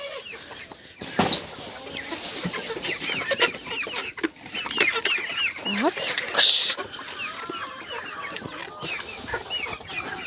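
Hens cluck and squawk close by while someone talks over them and shoos them with short hissing sounds.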